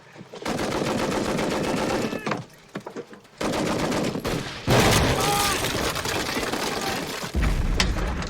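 Battle gunfire in a war film, with sustained rapid machine-gun bursts and single shots, loud and close, breaking off briefly then resuming, with shouted voices mixed in.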